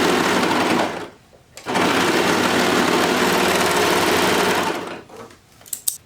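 A sewing machine stitches along folded fabric cuffs in two steady bursts of loud, close, rapid mechanical whirring, separated by a brief pause and ending with a few clicks.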